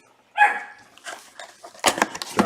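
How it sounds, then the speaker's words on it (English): A puppy yaps in short sharp barks, one loud yelp followed by a run of smaller whimpering barks a little distance off in a room, with no talk over it. "My dog is not cooperating, as y'all can hear in the background."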